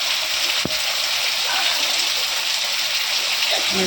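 Heavy rain pours steadily in a dense, even hiss with no letup, close and loud, with a single brief knock near the start.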